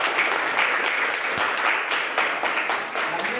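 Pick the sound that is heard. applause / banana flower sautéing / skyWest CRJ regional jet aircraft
applause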